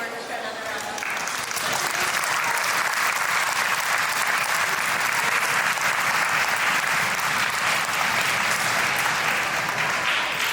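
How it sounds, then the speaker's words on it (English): Audience at a school fourth and fifth grade orchestra concert applauds the fourth grade orchestra with dense, sustained clapping that swells after the first second and holds steady and loud throughout. "Can we have fourth grade orchestra another round of applause?"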